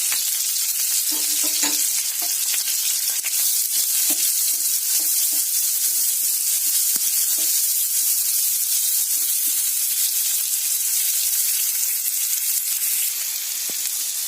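Onions and green chillies frying in a pan for a mixed vegetable fry, a loud, continuous crackling sizzle with scattered spits and pops, close and without voices.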